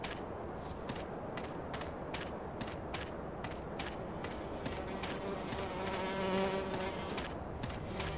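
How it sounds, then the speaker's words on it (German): Mosquitoes buzzing in hot, still air in the game Carnivores, a steady insect drone that stays even at a moderate level throughout, with no voices. "ich in der Stille nur das Summen der Mücken in der Hitze höre"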